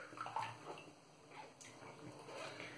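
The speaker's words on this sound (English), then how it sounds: "Could rinse off the handle really quick." Water runs quietly from a tap while a shaving brush handle is rinsed, a soft steady splashing with faint irregular spatters, close by and with no talking.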